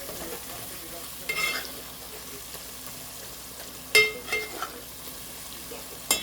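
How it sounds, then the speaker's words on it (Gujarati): Masala spices cooking in a pan hiss with a steady, quiet sizzle, broken by a few sharper scraping and stirring sounds from a utensil against the pan, with no speech over it. "મસાલો પાકવા આવ્યો છે"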